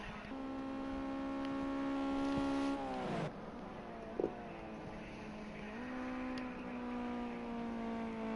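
A race car engine at Silverstone National drones loudly and steadily, holding a high pitch, then dropping sharply as it lifts off and climbing again through the gears.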